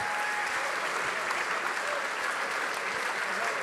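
Supporters at a team presentation applaud player Antoine Herbani with sustained, dense applause from a large crowd, an even roar of clapping throughout with faint voices mixed in.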